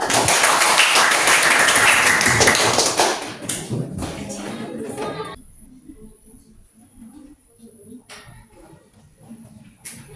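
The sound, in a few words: class clapping hands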